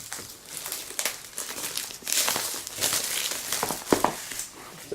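Plastic wrapping is cut and pulled off a boxed MacBook Air SuperDrive, giving close, irregular crinkling and crackling with a sharper tearing burst near the end, and no voices.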